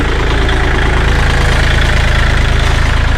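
A Kubota L3218SP tractor, a 2021 model, idles with a loud, close diesel chug, its rapid even pulsing steady throughout, with no voice over it.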